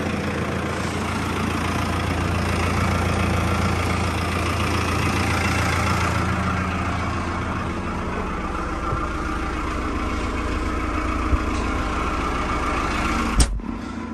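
A TR5 tractor engine running on a very cold early morning before field preparation, a steady low idling rumble that stays close and constant throughout, ending with a brief knock.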